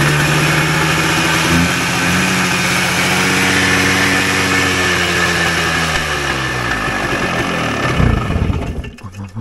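A Voskhod motorcycle engine runs loud and close, idling with a steady mid-pitched throb, then is revved in a rising surge near the end before dropping away; no one speaks.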